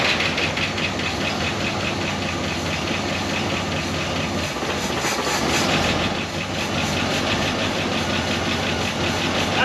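A barn-found 1969 Buick Wildcat V8, freshly started after 26 years, idles loudly and steadily with a rough knocking pulse and hiss, holding its level for nearly ten seconds with no talking.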